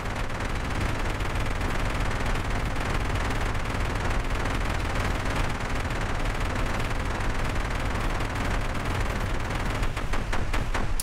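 Dense, unbroken gunfire and blast rumble from an airstrike in a helicopter video game, loud and continuous with rapid crackling bursts near the end, no talking.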